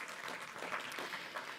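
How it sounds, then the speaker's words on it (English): Audience applause fills a conference hall at a corporate capital markets day, a steady continuous wash of clapping at moderate, fairly distant level throughout, with no voices on top. "Let's give them a round of applause."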